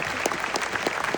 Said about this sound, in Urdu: اگر آپ لوگ واقعی سننا چاہتے ہیں عمران بھائی تالی بجا دیجیے